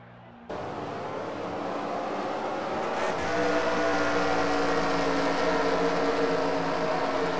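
Race truck engines at a Michigan race start roar to life together and settle into a steady, loud rumbling drone that swells slightly and holds.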